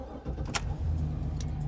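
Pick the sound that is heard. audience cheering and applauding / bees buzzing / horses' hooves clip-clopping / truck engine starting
truck engine starting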